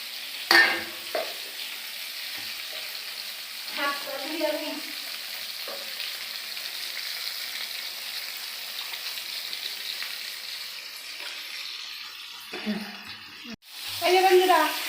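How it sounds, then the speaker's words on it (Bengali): Hilsa fish pieces fry in oil with a soft, continuous sizzle, broken by occasional scraping and stirring clinks, and a louder clatter near the end. "6 পিস মাছ আর 2 পিস ভাজা করছি"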